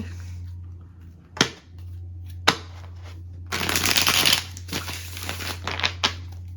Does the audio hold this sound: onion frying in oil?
no